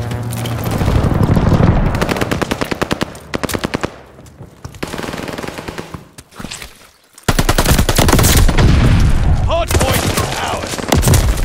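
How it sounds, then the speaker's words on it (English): Heavy automatic gunfire from aircraft strafing runs in the video game Call of Duty: Vanguard, loud rapid bursts with booming impacts, a brief lull, then another dense barrage, with voice callouts mixed in. "Hostiles are strafing us."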